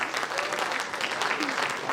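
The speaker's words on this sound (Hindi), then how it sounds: "तो तालियों से जरूर उनको नवाजें।" At the close of a stage drama at NCZCC, the audience gives the actors a thick, continuous wash of applause, close and fairly loud throughout.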